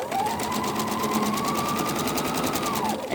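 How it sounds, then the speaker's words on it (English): A sewing machine stitching a quilt seam with a quarter inch foot, running in one steady, continuous whir up close for about three seconds before easing off. "I'm just going to stitch down the side"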